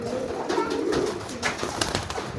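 A pigeon coos in courtship display, a continuous low rolling coo close by, with faint background noise and no talk.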